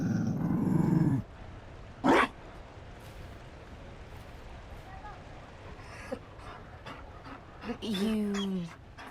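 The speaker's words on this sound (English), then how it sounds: "You found a dog" A Mabari war dog in Dragon Age: Inquisition growls, whimpers and pants in a few short bursts, close and distinct between stretches of quiet ambience, with no talk over it.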